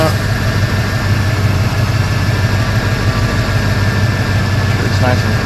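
Engine of a 1995 Ford Bronco idling during an AC recharge with 134a refrigerant, a loud, steady, close low rumble with an even mechanical drone throughout.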